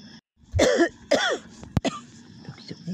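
A person coughs twice in quick succession, close and fairly loud, followed by a sharp throat-clearing hack and a few faint breaths in an otherwise quiet room.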